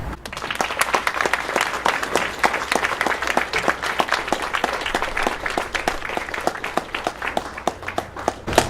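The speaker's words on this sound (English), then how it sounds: "Please give a round of applause to all of our very talented faculty" Sustained applause from a crowd, dense overlapping hand claps at an even, energetic level throughout with no talking.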